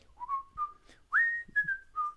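A person whistles a short tune, imitating a cockatoo whistling part of the Andy Griffith theme song: a series of clear, close, sliding notes in an uneven rhythm, alone in a quiet room.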